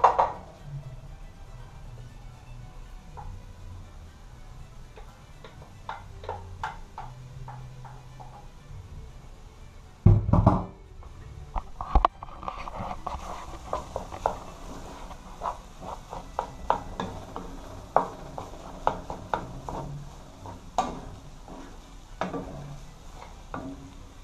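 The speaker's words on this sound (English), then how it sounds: "So we're going to add our rice." Rice tipped into a pan for Jamaican-style chicken fried rice, with a sharp clatter of utensil against the pan partway through, followed by scattered light scraping, tapping and stirring noises at moderate loudness.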